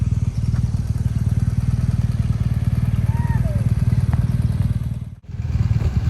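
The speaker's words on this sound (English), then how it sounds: "off we go again to the bike that is still running" A motorbike engine idles during a solo ride through a green valley in Venezuela, a steady, close, low rumble that holds throughout before briefly dipping near the end and picking back up.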